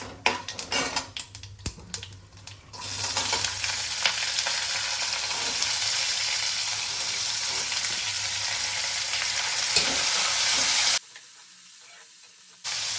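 Chopped vegetables go into hot tempering oil with cumin in a pan, giving a few clattering knocks and then a steady loud sizzle that runs on before cutting off abruptly.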